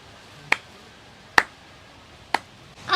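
Three sharp, isolated hand claps, spaced about a second apart, come close but faint against a quiet room, followed by a brief rustle.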